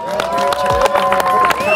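People at a street march in La Paz clap and cheer, a close, lively burst of applause and voices mixed with chatter, lasting the short moment.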